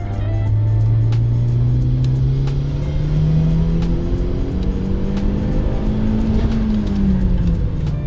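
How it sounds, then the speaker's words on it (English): A turbocharged car engine accelerates hard, its droning pitch climbing steadily toward redline over several seconds with no voices. "The car pulled smoothly and strongly to redline."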